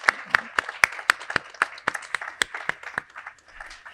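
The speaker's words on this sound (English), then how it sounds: "join us in a round of applause to thank all of our parents" A crowd claps steadily at a school graduation convocation, sharp individual hand claps standing out close by against a dense, continuous round of applause for the graduates' parents.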